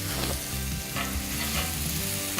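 Moreton Bay bugs and mango sizzling on a griddle pan, a continuous close, crackling fry with soft scraping as the pieces are moved, alone without talk.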